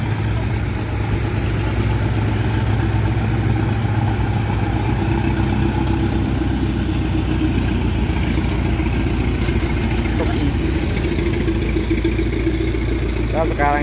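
Steady low rumble of heavy truck engines idling in congested traffic on the Propat climb, continuous and close, with a faint high whine above it.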